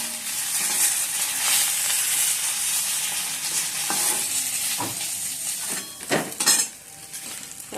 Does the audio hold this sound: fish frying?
yes